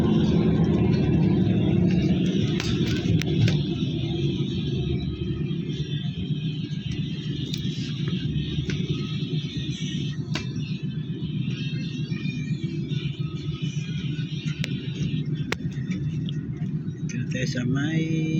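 Car traffic on EDSA highway near Trinoma, where road work is slowing vehicles. It makes a continuous low rumble of engines and tires from inside a moving vehicle, with someone talking steadily over it.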